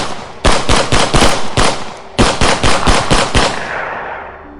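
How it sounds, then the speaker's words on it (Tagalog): An M16 Armalite rifle fires on semi-automatic as a sound effect, loud close shots in two rapid bursts of about six each separated by a brief pause, ending in a fading echo. "Sunod-sunod na putok mula sa M16 na Armalite, naka-semi-automatic, ang gumulantang sa mga tao."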